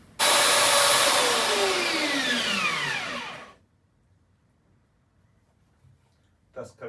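A workshop dust collection system roars loudly for about three seconds, its motor whine falling in pitch as it winds down to silence, followed by a couple of faint brief knocks.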